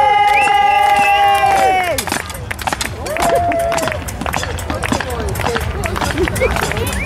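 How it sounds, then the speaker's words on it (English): A crowd at a knight school event cheers and shouts loudly, with sustained whoops and yells at first, then a busy, noisy hubbub of voices and movement continuing throughout. "Crowd, make some noise!"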